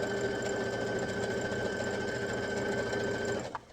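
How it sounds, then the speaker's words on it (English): A sewing machine stitches fabric in a fast, even, continuous whir that holds steady and then stops abruptly near the end, close up with no talking. "Your job is to guide the material through the sewing machine."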